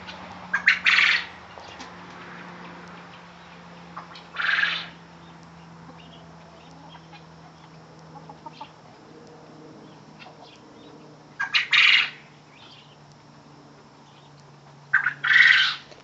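Free-range chickens squawk in four loud, short bursts separated by quiet pauses, close by over a faint steady background hum.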